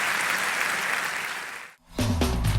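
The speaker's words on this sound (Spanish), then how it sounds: "dale la gloria a Dios con un buen aplauso en esta noche" A church audience gives a sustained round of applause, a dense, even patter of many hands that fades out briefly before a different sound cuts in at the end.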